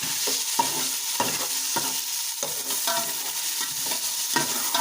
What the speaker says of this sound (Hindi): जी तो हम प्याज को अच्छे से घुमा लेंगे।